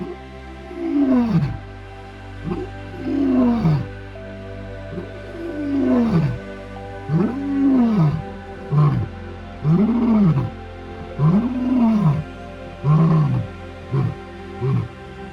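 Lions roaring at night in Timbavati, a series of deep, rhythmic roars and grunts repeating loud and close over about fifteen seconds, each call rising and falling, with no speech.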